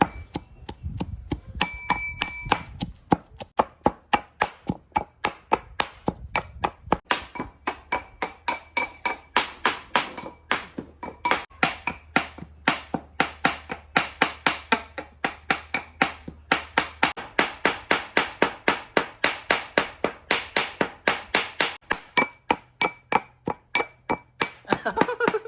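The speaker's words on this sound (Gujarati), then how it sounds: "હવે આપણે આ છે ને આ બધું ખાંડી નાખવાનું છે. તો ખાંડી નાખીએ." Ginger and garlic pounded into a paste with a pestle, a rapid run of sharp, ringing strikes in a steady rhythm, close and fairly loud, with brief pauses between bursts.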